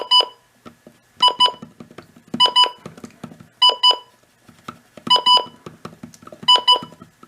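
A Midland WR-100 weather radio gives invalid-button beeps, short electronic beeps in pairs and triplets separated by pauses, bright and close with a faint low hum beneath.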